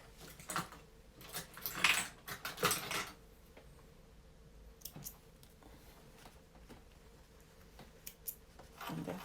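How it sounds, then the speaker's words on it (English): Scissors snip thread during apron sewing, giving a few sharp, close metallic cuts and clicks, quiet and spaced out with handling noise in between. "I'm gonna cut the thread off."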